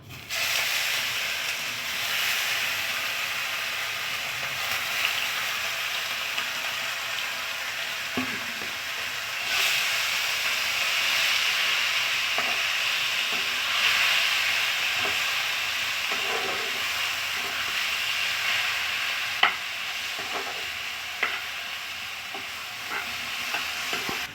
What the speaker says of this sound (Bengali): এবারে আমি গ্রেট করা আলু এবং পটল দিয়ে দিচ্ছি